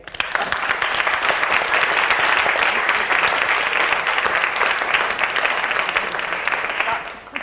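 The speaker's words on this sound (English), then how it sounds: "we can all applaud that, or we have just all applauded that" An audience at the end of a debate breaks into sustained applause, a dense, loud wash of many hands clapping that holds steady for several seconds before tapering off near the end.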